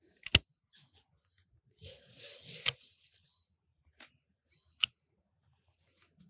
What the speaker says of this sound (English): I'll just take those back to my secateurs.